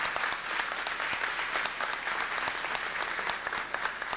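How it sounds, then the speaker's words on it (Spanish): Warm applause from one side of a seated audience at a community gathering, many hands clapping in a continuous, even patter that holds steady for several seconds without voices. "Un aplauso bien cariñoso de la derecha."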